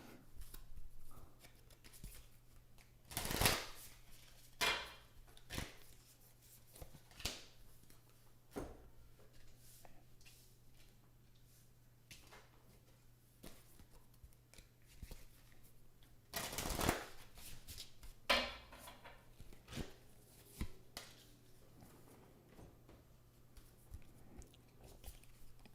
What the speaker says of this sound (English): if you're liking what I'm doing while I'm shuffling the cards